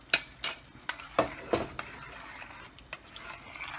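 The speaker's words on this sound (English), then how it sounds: "Give it a stir." Utensil scraping and clinking against a pan while stirring saucy chicken cacciatore, a series of distinct close taps and scrapes in an uneven rhythm, with no talk.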